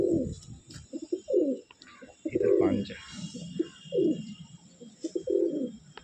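Pigeons in a loft coo in repeated throaty bursts roughly every second, near and fairly loud, while someone speaks briefly between the calls.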